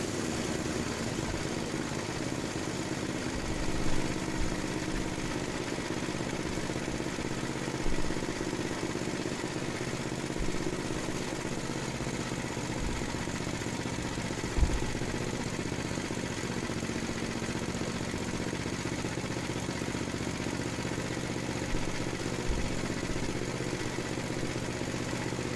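Murray Estate 8/27 dual stage snow blower engine idling steadily, a continuous mid-pitched hum with a slightly bouncing rhythm and a few faint knocks, no talking.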